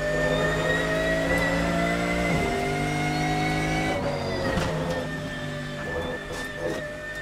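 A GT3 race car engine in Assetto Corsa holds a steady, loud droning tone, then dips and shifts through gear changes with a few quick revs toward the end, with no talking.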